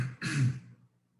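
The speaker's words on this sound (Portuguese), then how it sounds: "é só um pigarro, não é Covid" A single short throat clearing from a preacher during a church Bible-school talk, a brief rough burst close to the microphone followed by quiet.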